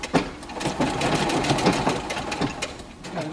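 A sewing machine stitches the hem of a ruffled apron, a close, steady rapid chatter of the needle with a faint motor hum running throughout, no voices.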